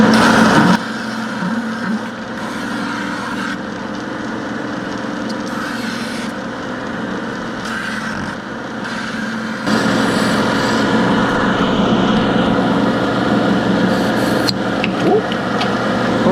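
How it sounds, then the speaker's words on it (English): A belt sander shapes a piece of pallet wood with a steady motor whine and a rough abrasive rasp that swells when the wood is pressed harder partway through, with no talk. "Just take it over to the belt sander, I guess."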